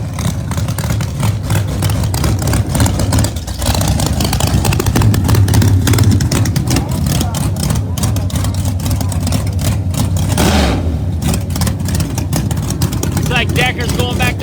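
Loud, continuous roar of a Yenko Camaro Pro Mod drag car at Empire Dragway during Northeast Outlaw Pro Mod qualifying, engine noise filling the whole stretch with talk over it.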